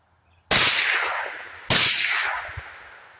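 Two loud, sharp reports from a 5.56/.223 rifle fired through a YHM Resonator K suppressor, about a second apart, each followed by a long decaying echo outdoors.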